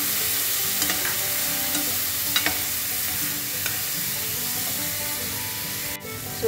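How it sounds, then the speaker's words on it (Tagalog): Squash and okra simmering in coconut milk are stirred after shrimp paste is added, giving a steady close bubbling sizzle with faint scraping strokes of the spoon and no talking. "At lagyan natin ng kunting bagoong."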